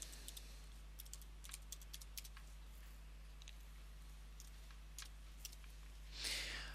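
Keys clatter on a computer keyboard as a password is entered, a sparse run of quiet, irregular clicks over a low steady hum, ending with a brief louder rustle.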